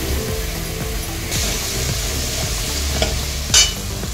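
Spiced masala for a matar paneer biryani fries in oil while a utensil stirs it, giving a continuous close sizzle broken by scraping stir strokes and one sharp clink near the end.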